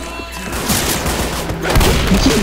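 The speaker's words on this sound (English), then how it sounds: "did you by chance hear the 6 bullets whizzing past your ear?" Rapid gunfire in a Left 4 Dead match, with bullets whizzing past, a dense continuous barrage of shots that swells louder toward the end.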